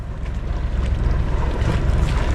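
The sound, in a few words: waves from a passing ship's wake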